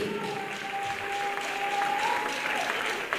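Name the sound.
congregation applauding in church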